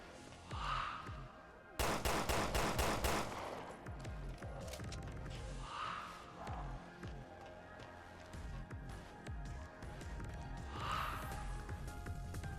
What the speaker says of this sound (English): Thing about my machine gun though, it keeps on moving up when I shoot it.